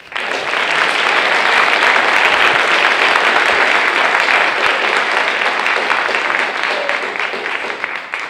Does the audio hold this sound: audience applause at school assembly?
yes